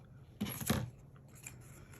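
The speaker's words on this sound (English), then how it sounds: "Nothing like having a pair of scissors on hand." Scissors snip through paper on a junk journal glue book in two quick close cuts, followed by a faint rustle in a quiet room.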